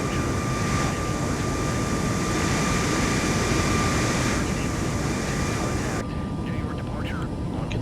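Airliner jet engines in Microsoft Flight Simulator 2024 give a constant, dense roar with a faint steady whine, loud and unbroken throughout.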